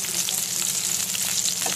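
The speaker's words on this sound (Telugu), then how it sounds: "ఇట్లా వేయించుకుంటున్నాను." Sliced bitter gourd (kakarakaya) frying in oil in a pan, a steady close-up sizzle with light crackling throughout and no talking.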